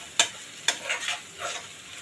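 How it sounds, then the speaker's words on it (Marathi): Ginger garlic paste being sautéed in hot oil while making a vegetable bhuna masala, with two sharp scraping stir strokes followed by soft, intermittent sizzling bursts. "ही आलं लसूण पेस्ट सुद्धा छान परतून घ्यायची आहे"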